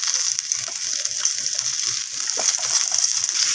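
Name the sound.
ground spices stirred and fried in a pan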